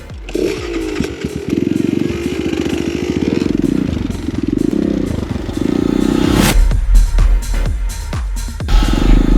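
An enduro motorcycle riding off-road, its engine droning steadily up close, then revving harder with clattering and scraping as the bike works over rough, muddy ground.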